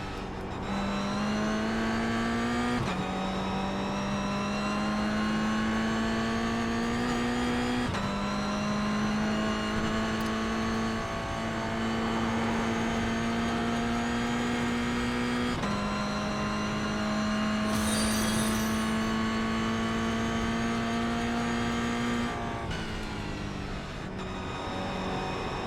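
A Mazda MX-5 race car laps the Oulton Park circuit, its engine droning loudly and continuously from onboard, with pitch climbing through the gears and dropping at several shifts.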